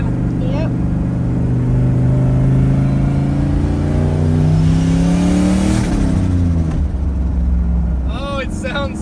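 Loud engine of a Ford OBS truck swapped to a turbocharged 6.0, revving up and winding down close by with rising and falling pitch, while voices are heard faintly underneath.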